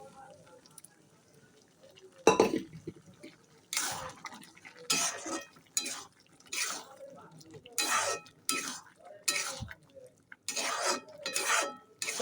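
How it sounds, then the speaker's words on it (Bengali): Boiled potatoes and peas tipped from a vessel into a kadai wok, heard as a series of close, sharp scraping and clattering bursts of a spoon against metal with soft wet thuds, separated by short pauses. "আলু আর মটর একসঙ্গে সেদ্ধ করে নিয়েছি। এই দিয়ে দিলাম কড়াতে।"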